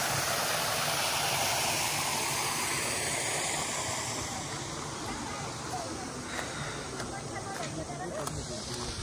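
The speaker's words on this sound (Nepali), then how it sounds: "झर्ना कहाँबाट आएको नि यस्तो पानी है सही पानी आएछ अहिले" A waterfall at a bamboo cottage in Ramthumki village, Tanahu, pours in a loud, constant roar of falling water, with voices talking faintly under it.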